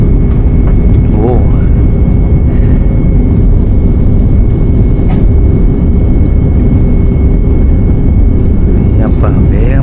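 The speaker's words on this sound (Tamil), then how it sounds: "இது கொஞ்சம் வித்தியாசமாக இருக்குங்க லேண்டிங்கு" Large Cebu Pacific airliner landing, a steady loud broad roar of engine and wind filling the whole stretch without letup, with voices talking faintly over it.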